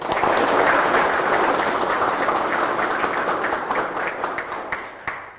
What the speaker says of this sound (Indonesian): Kita berikan tepuk tangan sekali lagi untuk beliau atas kehadirannya.